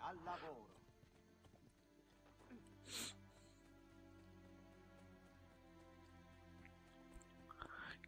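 Horse hooves clip-clop steadily through gameplay of Assassin's Creed Brotherhood on PC, a brief whinny and a few sharper bursts rising over a continuous droning game soundtrack, with someone speaking at moments.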